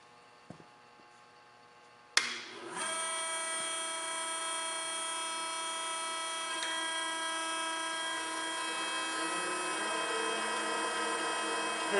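A hydraulic drive on a bore repair machine starts with a sharp burst after a quiet stretch, then settles into a steady, high-pitched whine and hum that runs on continuously.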